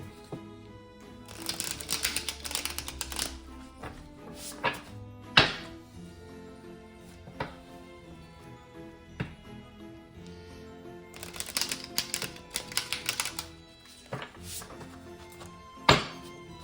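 A tarot card deck being shuffled in repeated riffling bursts, with soft thumps and taps as the deck is squared between shuffles, close and fairly quiet.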